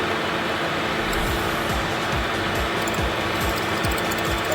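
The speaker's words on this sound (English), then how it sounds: "we are using milling, which is a process that uses a rotating wheel that moves horizontally and vertically to cut off excess and shape the material" Milling machine with a rotating cutter shaping material for a turbine blade in a workshop: a dense, steady mechanical whir and grinding with a faint repeating rhythmic knock, continuous and fairly loud throughout.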